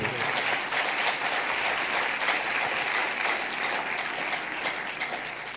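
A church congregation at a Punjabi sermon claps loudly and steadily for God, dense sustained applause filling the space from start to finish.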